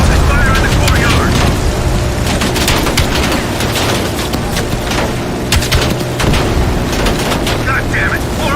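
Heavy gunfire in Call of Duty: Black Ops Cold War, bursts of automatic fire and booming blasts in a rooftop and courtyard firefight, loud and continuous with someone shouting over it.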